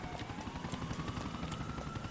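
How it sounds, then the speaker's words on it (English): A massive helicopter in Grand Theft Auto 4 flies low overhead, its steady rotor thump and engine whine filling the scene continuously at close range with no talking. "you just can't see that massive chopper swinging around"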